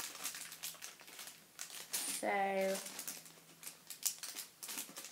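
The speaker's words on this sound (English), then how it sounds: "I've got these scissors, I'm just going to cut this bit off." Scissors cut open plastic paintbrush packaging with crinkling and rustling, followed by a brief sharp snip, close and quiet, while a person speaks briefly.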